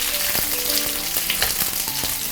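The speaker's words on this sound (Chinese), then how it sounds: "我们煎的时候呢，尽量用最小火慢慢去煎它" Thick green peppers fry slowly in a little oil in a flat pan over the lowest heat, with a steady soft sizzle and scattered small pops and crackles, close and alone without talk.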